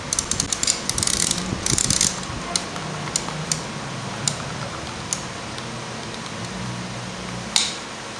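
Film advance knob being turned on a LOMO Lubitel 166B medium-format twin-lens camera, giving a close series of small ratcheting clicks and gear ticks, dense at first and then sparser, with a few quiet handling noises and no talk.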